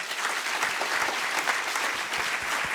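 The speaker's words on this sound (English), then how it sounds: "Let's give them all a round of applause." An audience at a panel event on women's sport applauds steadily, a dense, even wash of clapping heard from a little distance, fairly soft and without talk.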